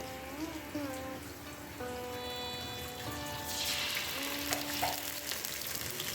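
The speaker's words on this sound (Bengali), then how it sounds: "এবার আমরা ওর মধ্যে দিয়ে দেব আদা রসুন পেস্ট।" Ginger garlic paste sizzles and crackles softly as it fries in oil with browned onions for a dal and mutton curry, a steady light frying hiss beneath gentle background music. Nobody speaks.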